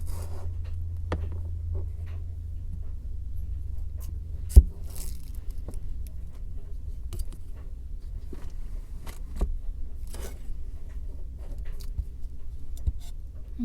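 A knife cuts through a small onion on a board while campfire chicken is prepared, giving sparse, sharp taps at uneven intervals against a low, steady background hum.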